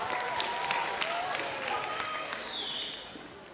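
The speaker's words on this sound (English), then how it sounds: "Give a round of applause for one of our contestants" Audience applause for a contestant at a school charity-week quiz, a steady wash of clapping from a room full of people that continues throughout and fades slightly toward the end.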